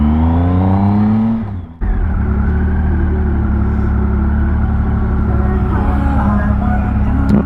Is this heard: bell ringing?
no